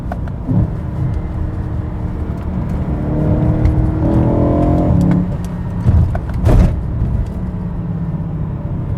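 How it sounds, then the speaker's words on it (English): A BMW E90 M3 with DCT gearbox rumbles and blips up in pitch a couple of times on a third-to-second downshift, with steady road and wind noise throughout, no voices. "Listen to that downshift."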